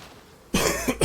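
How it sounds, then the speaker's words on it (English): A short coughing fit bursts out after a quiet half-second, several loud, harsh coughs close to the microphone in quick succession, with no talking over them. "As soon as we start saying it, I get a coughing fit."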